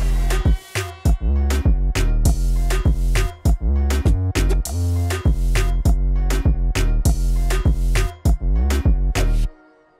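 Synth lead layered over a piano drop in FL Studio, a loud stream of punchy rhythmic stabs over deep bass that run steadily before cutting off sharply near the end.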